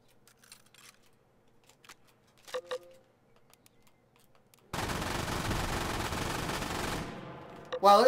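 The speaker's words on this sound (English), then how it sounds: "Spawn the MG42." An MG42 machine gun in the H3VR virtual reality game fires one long, loud automatic burst of about two seconds after some faint handling clicks, then cuts off, followed by a short final rattle.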